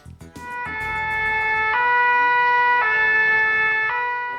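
A French fire brigade two-tone siren wails loud and steady, alternating between its high and low pitch in long held notes after a brief rising start, with faint traffic rumble underneath.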